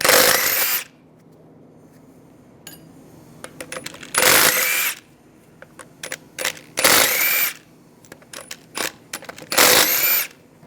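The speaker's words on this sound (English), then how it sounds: "Take the lug bolts out." Lug bolts come off a 2006-2009 Mercedes-Benz E350 wheel using a 17mm socket: four loud bursts of an impact tool, each followed by small metallic clinks and rattles of the loosened bolts, close up.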